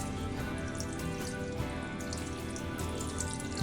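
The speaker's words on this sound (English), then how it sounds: "we're going to start seeing some water leak out" Water trickles steadily out of a toilet tank after its fill valve is loosened, a continuous soft splashing and dripping with no voices.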